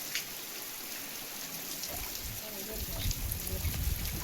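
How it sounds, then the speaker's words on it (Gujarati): Steady rain falls in a village, a continuous hiss of drops with a slight swell toward the end, close and even, with no clear voices over it. "આજે અમારા ગામમાં પણ વરસાદ ચાલુ છે"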